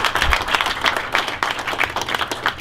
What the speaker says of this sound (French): Applaudissons ensemble, s'il vous plaît.